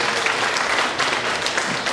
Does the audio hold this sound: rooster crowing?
no